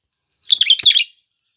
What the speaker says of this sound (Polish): Cały czas się bawią, cierkają, słyszycie?